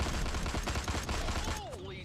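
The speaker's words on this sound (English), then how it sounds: "the only thing I have to kill myself with is the one anti-air turret" An anti-air turret fires in Destroy All Humans, a dense rapid volley of shots close and loud, ending with a whistling, sliding tone as the burst dies away.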